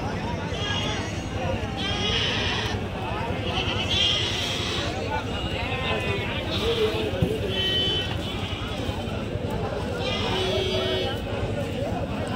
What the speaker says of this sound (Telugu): మేక పోతుంది, తెలీదు ఎక్కడి నుంచి వచ్చిందేమో